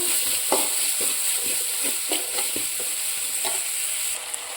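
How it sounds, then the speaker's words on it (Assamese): A spoon stirs curry in a pan with onion, mustard oil, chili, turmeric, cumin, coriander, salt, ginger and garlic, giving repeated scraping strokes over a steady frying sizzle, close and moderately loud with no talking. "এতিয়া অকণমান মই এনেকৈ লাৰি আছোঁ"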